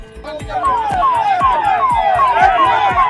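A police vehicle siren wails close and loud in Raipur as the vehicle takes people away, its rising-falling tone repeating steadily with a rhythmic pulse underneath.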